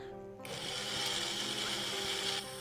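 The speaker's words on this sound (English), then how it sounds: "Grind together all these ingredients to make the chutney." An electric blender grinds coriander and mint chutney ingredients, including roasted gram, garlic, ginger, onion and green chillies, with a loud, steady whirring hum that starts abruptly after a short pause and drops back toward the end.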